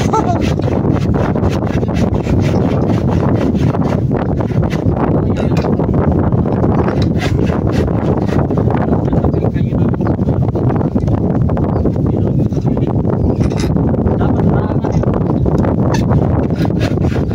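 Strong northeast monsoon wind at a fishing spot buffets the microphone in a steady, loud roar for the whole stretch, with rustling and gusty thumps throughout.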